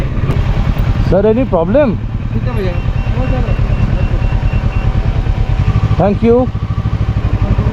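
A motorcycle engine runs steadily throughout on a mountain road toward Kedarnath in Uttarakhand, a close, continuous low drone with a brief dip near the end, while people speak over it.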